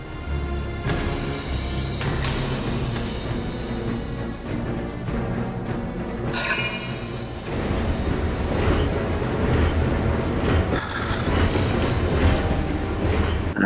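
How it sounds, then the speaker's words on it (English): A train passing in the Valkyria Chronicles 4 video game during a battle at a railway, loud continuous rumbling and clattering wheels with metallic squeals, steady throughout with no talk. "Another train with shit on it."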